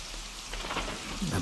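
Rain pouring in a thunderstorm out in an open field, a steady close downpour with a low rumble of thunder underneath and no talking.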